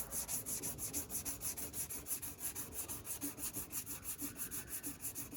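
Steady back-and-forth sanding of a painted car bumper with 400-grit sandpaper, close and fairly quiet, the strokes coming in an even rhythm throughout with no talk.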